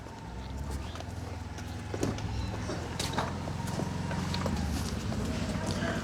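A dairy cow is walked across a farm, its hoof steps giving faint irregular knocks over a steady low background hum.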